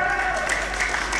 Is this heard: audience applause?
yes